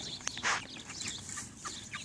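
Cornish Cross meat chickens clucking nearby, a few short soft clucks over a quiet background hum.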